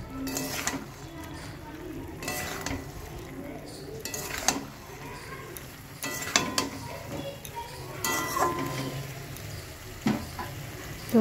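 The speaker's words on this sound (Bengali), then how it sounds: "এরপরে আমি ফুলকপি আলুগুলো দিয়ে দেবো, দিয়ে ভালো করে মশলার সঙ্গে নেড়ে নেব।" Cauliflower and potato pieces stirred with spices in a pan, a run of close spatula scrapes and metallic clinks against the pan over a low frying hiss, irregular and moderately loud.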